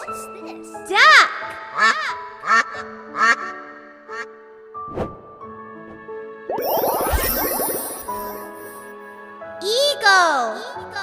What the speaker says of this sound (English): What's this? Duck!